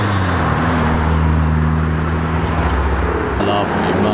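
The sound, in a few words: Ford Mustang driving past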